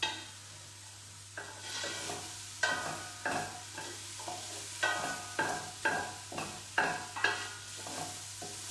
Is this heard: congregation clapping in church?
no